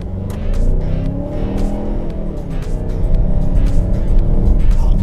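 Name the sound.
Mazda CX-9 accelerating to 70 km/h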